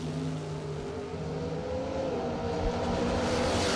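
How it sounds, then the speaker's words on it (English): A Mopar and a Ford Fairmont staging for a bracket drag race, their engines a loud, continuous rumble that swells and rises toward the end, heard without any talking. "Beautiful Mopar staging up against a Ford Fairmont."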